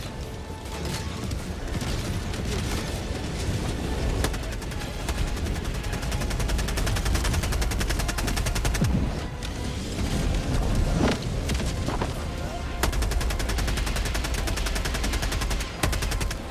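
Rapid gunfire from the video game Helldivers 2, dense bursts of automatic weapons and sharp single shots rattling continuously, with occasional heavier booms and mechanical clatter throughout.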